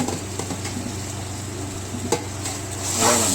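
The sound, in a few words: tomatoes added to sautéing ginger-garlic in pan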